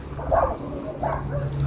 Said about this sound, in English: We've got a puppy that's not very happy that I'm here.